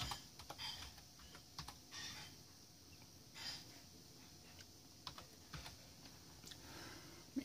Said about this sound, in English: And then we type in